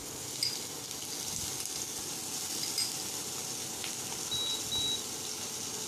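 Chopped onion frying in a pan in a home-style kitchen, giving a steady broadband sizzle that runs unbroken and fairly close throughout, with a few faint high beeps over it and no speech.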